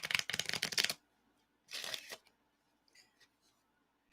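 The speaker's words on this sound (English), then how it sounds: "Shuffle one more time." Playing cards are riffle-shuffled up close in two quick crisp bursts, then a few faint taps as the deck settles, in a quiet room.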